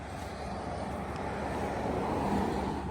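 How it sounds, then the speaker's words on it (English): A truck rolls down a street on a hurricane relief haul, a steady close low engine and road rumble with no talking. "Driving down the street."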